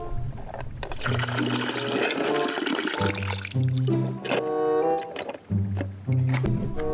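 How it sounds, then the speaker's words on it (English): An acid solution used on rocks is poured down a drain, making a steady gurgling, splashing flow of liquid that runs under background music with a short break near the end. "Take your rocks and put the solution down a drain."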